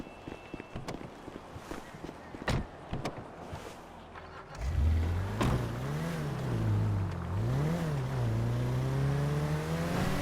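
A car driven in GTA 5 starts after scattered footsteps and knocks, then engine revs rise and fall in repeated swells, loud and close, with no talk.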